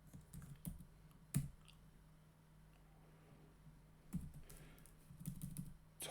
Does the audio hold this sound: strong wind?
no